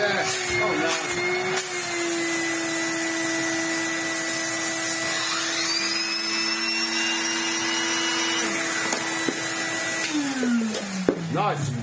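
A Numatic NV200 vacuum cleaner motor running steadily with a loud, constant whine and shifting harmonic tones, close by throughout and winding down in pitch near the end.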